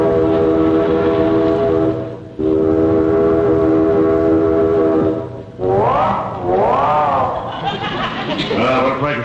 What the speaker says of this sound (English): That darn old train hasn't been on time 20 years.